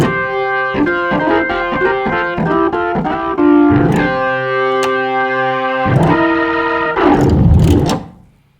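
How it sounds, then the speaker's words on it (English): A Hammond SKX organ with overdrive and Leslie rotary effect plays a lead line of chords and held notes, gritty and loud, with a swirling rotary texture and a final smeared chord that fades out. "for a lead organ sound, then a bit of overdrive here."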